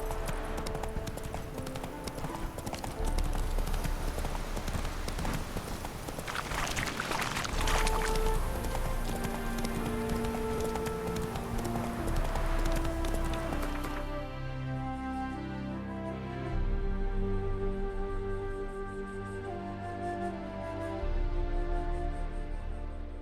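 Roach the horse trots in The Witcher 3 with steady, rhythmic hoof clip-clops that run throughout under ambient game music. There is no talking.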